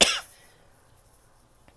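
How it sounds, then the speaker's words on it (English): One sharp cough bursts out close to the mic at the very start, then trails off into near silence. "I have to cough"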